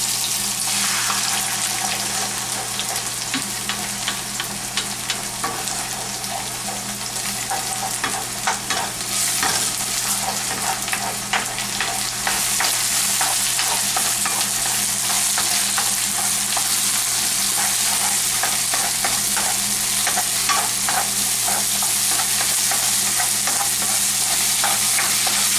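Eggs fry in a pan with a steady, loud broadband sizzle that lasts throughout, with frequent scraping stir clicks over it and no talking.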